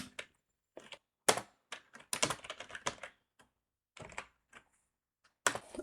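Fingers typing numbers on a computer keyboard into an Excel spreadsheet: irregular bursts of crisp, close key clicks separated by short pauses, with no talking.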